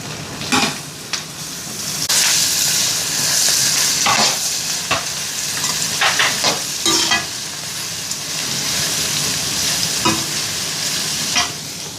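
Chopped ridge gourd being stir-fried in a pan for beerakaya fry, a loud, close sizzle with repeated spatula scrapes and stirring bursts through the whole stretch, no voices.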